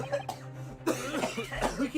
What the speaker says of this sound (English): We can hear him cough.